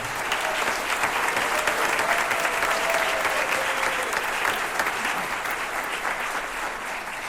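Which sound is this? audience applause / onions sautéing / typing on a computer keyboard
audience applause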